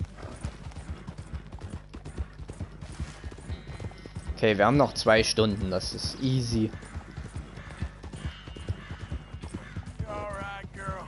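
Hoofbeats of a horse galloping in Red Dead Redemption 2 pound in a steady rhythm throughout, with someone talking loudly over them in the middle.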